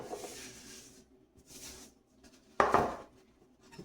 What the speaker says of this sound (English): So I'm gonna get my pan